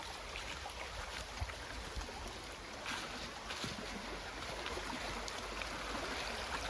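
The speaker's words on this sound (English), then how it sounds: "The river's getting quite deep again now." A river running deep through autumn woodland, flowing steadily as a constant close rush of water with no break and no voices.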